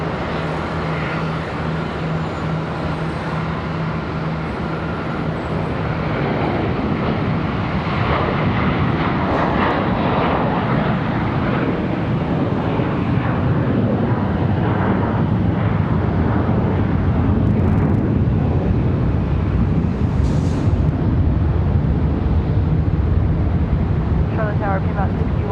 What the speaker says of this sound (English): Good looking departure there for the A321